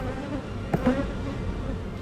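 Honey bees hum with a low, steady buzz inside an open hive during a late-May inspection, with a brief soft knock near the middle and no talking.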